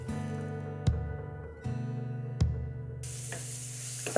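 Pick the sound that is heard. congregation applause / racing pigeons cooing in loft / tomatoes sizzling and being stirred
tomatoes sizzling and being stirred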